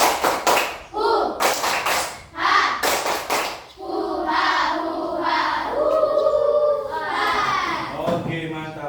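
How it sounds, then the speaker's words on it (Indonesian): A group performing the jungle clap (tepuk tangan rimba), several loud rhythmic clap bursts in quick succession up front, then a sustained chanted call from many voices carrying to the end. "Tepuk tangan rimba"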